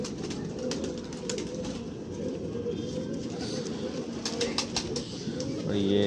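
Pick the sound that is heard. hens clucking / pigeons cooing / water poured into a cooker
pigeons cooing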